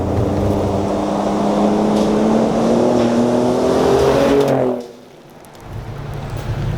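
A 2017 Ford F-150 Raptor pickup with an EcoBoost engine and 10-speed transmission accelerates hard, its rising engine note climbing steadily before cutting off sharply at a gear change, then picking back up quietly.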